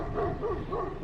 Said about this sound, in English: the neighbor's dog isn't happy that I'm here